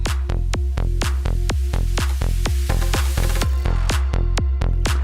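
An electronic music track at about 126 BPM plays a steady, evenly spaced beat of punchy, sharp clap-like hits over a deep kick, loud and continuous without talking.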